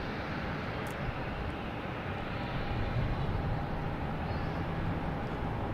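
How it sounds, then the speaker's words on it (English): An Alaska Airlines jet comes in to land at Logan airport, heard as a steady, fairly faint engine rumble from some distance, holding level throughout. "Okay, we have Alaska Airlines coming in."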